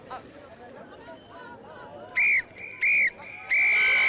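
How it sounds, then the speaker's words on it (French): At the close of an under-18 women's Six Nations rugby match between France and England, a referee's whistle shrills in three blasts: two short ones, then a longer final one. Crowd noise stays low underneath. "coup de sifflet final"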